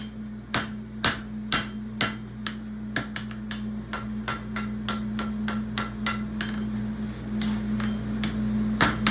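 Hammer blows ring out on metal while a pony roadster part is forged, a steady series of sharp, close metallic strikes, some spaced and some in quick pairs, over a constant low hum in the shop.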